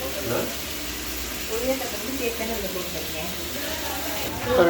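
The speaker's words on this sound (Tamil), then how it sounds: "நல்லா வெங்காயம் தக்காளி வதங்கிட்டு இருக்குது இனிமேல் நல்லா வதங்கிக்கணும்" Onions and tomatoes frying for a seeraga samba mutton biryani give a steady sizzle throughout, partly under a voice talking.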